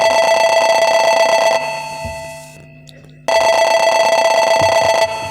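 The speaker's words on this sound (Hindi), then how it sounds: "लगा दिए फोन सेनापति जी के पास" A telephone ringback tone repeats: a long electronic ring, a pause, then the ring again, loud and close.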